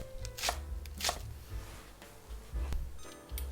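A knife slicing a green onion diagonally on a cutting board, a handful of crisp, separate chops with short pauses between strokes, close and clear with no talking.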